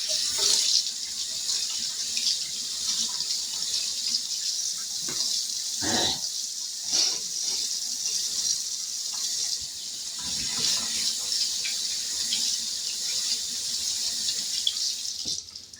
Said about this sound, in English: let me wash my hands off right quick